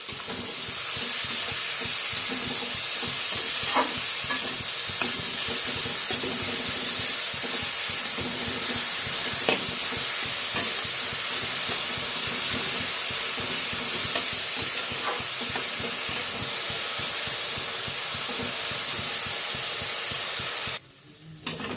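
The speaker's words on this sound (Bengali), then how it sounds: "ভালোভাবে নেড়ে চেড়ে নিই।" Grated carrots cooking for gajar halwa are stirred in a hot pan, giving a steady sizzling hiss with soft scraping strokes of the spoon scattered throughout, ending abruptly.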